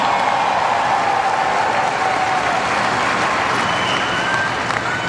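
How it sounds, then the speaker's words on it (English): Sustained, dense applause from a large stadium crowd at the Miami Open 2026 trophy ceremony for the Sabalenka–Gauff tennis final. It fills the whole stretch at a steady, loud level, with faint cheering mixed in. "How about a round of applause for both Aryna Sabalenka and Coco Gauff?"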